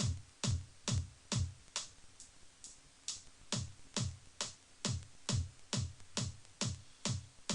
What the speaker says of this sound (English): Let's hear the kick alone